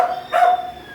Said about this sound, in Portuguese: Agora o cão chamou os outros cães e agora não tem mais pregação.